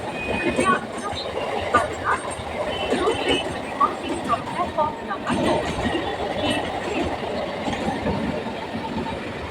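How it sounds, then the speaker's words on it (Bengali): An express train runs along the Howrah–Bardhaman main line. Its steady, close rumble of wheels and carriages rolls on for the whole stretch, with faint clatter in the broadband roar. "সামনে দিয়ে ছুটে আসছে একটি এক্সপ্রেস ট্রেন"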